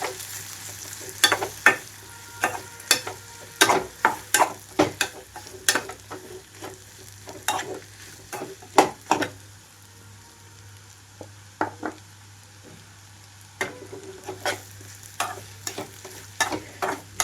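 Bitter gourd fry being stirred in a pan as ground chili powder is added bit by bit, with a steady sizzle under repeated sharp scraping strokes of the spoon, close and distinct, no talking.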